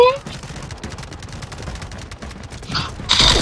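Rapid gunfire in the Delta Force Mobile shooter game crackles in dense automatic bursts of sharp cracks, steady through the clip, with a louder burst near the end, while a player talks over it.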